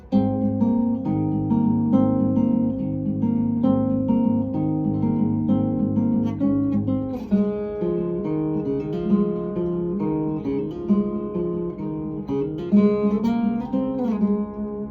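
Fingerpicked acoustic guitar playing a repeating, interlocking pattern of bass notes and higher strings, steady and close, with no voices.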